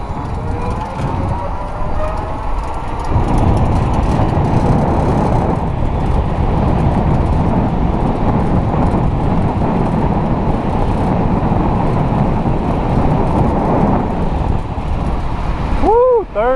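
A 1000W electric bike speeds fast downhill, producing a loud, continuous roar of wind and road rush up close that holds steady throughout, with a short burst of distorted noise at the end.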